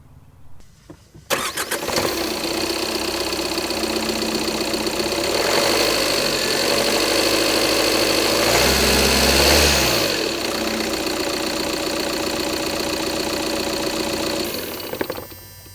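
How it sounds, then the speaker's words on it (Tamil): A 2025 Tata Altroz diesel hatchback engine cranks and starts, then settles into a steady, loud, clattering idle that runs on without a break. "ஓகே, இதோடைய இன்ஜின் நோட்டை கேளுங்க."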